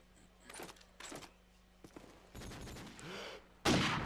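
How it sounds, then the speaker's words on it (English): Deagle pistol shots fire in a video game match. Several brief, faint cracks are spread irregularly among quieter game noises, followed by a louder burst at the end. "Couple of deagle shots go off."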